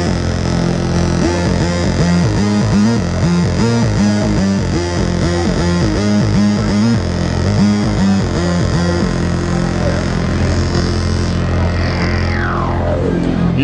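An Arturia Minibrute analog synthesizer plays a loud, distorted, pulsing bass sequence with the sub-oscillator brought in through its Steiner-Parker filter, then sustains a held tone with a sweeping pitch glide at the end.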